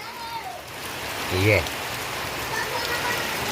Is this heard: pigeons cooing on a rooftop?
no